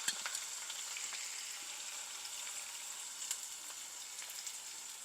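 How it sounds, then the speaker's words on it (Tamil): Sliced onions frying in oil for homemade Hyderabadi chicken biryani, giving a faint, even hiss of sizzling with a few soft pops. "இந்த வெங்காயமெல்லாம் ஃப்ரை பண்ணி எடுக்க போகிறோம்."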